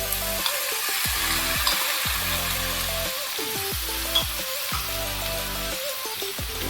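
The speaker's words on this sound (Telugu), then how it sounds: "తగినంత ఉప్పు వేసుకొని మనం వేయించుకుందాం." Chopped onions and tomatoes fry with salt in hot oil in a pan, making a steady, close sizzle with scattered pops. The sizzle runs without a break under faint tonal background music.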